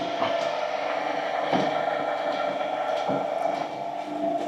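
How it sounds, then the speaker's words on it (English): A dough mixer churns sourdough dough at slow speed, a steady mechanical whirring and knocking with a faint periodic thump from the turning hook, continuous and close throughout. "I'm going to add the starter, and then I'll mix it for about like 2 minutes"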